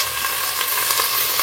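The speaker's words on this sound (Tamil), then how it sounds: "நல்லா வதங்கட்டோங்க வெங்காயம்." Onions sautéing in a hot pan while preparing chicken dum biryani: a continuous bright sizzle and crackle of frying at steady volume, close up, with no voices.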